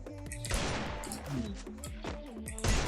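Rapid bursts of gunfire from a shooting video game played on the Bluestacks 5 Android emulator, close and loud, with overlapping volleys of shots throughout and no talking.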